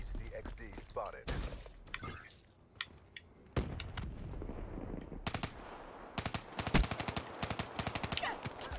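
Gunfire in Call of Duty: Black Ops 3 multiplayer, with bursts of rapid automatic shots and single cracks at varying distances, including a dense close volley near the end, under intermittent talk and game chatter.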